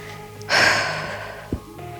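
Heavy breathing during a low-impact cardio workout, one long forceful exhale followed by a short sharp breath, close to the microphone.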